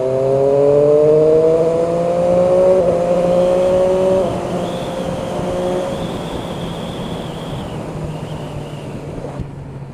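A 2017 Triumph Street Triple RS motorcycle accelerates with its exhaust rising through the revs as a loud, tonal engine whine, then eases to a lower steady drone under wind noise as the bike cruises on.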